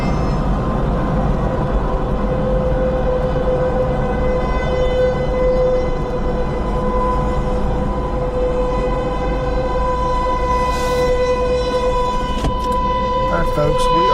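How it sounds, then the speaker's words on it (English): Tornado sirens wail in a sustained, steady tone during a storm across the plains, heard from a vehicle with road and engine noise underneath, holding throughout. "There are the tornado sirens going off"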